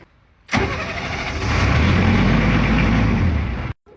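A military engine cranking and catching, then running at a steady rough rumble that rises after a second before cutting out abruptly into silence, loud and close.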